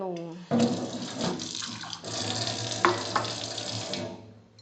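Water pouring steadily into a glass to drink, a continuous close splashing and filling sound that lasts several seconds.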